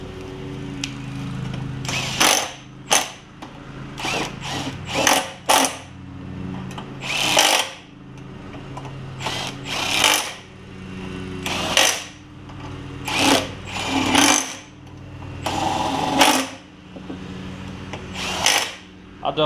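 An impact wrench fires repeated short, loud buzzing bursts as it tightens bolts on a Briggs & Stratton Quantum engine on an MTD push mower, with someone talking quietly in the gaps.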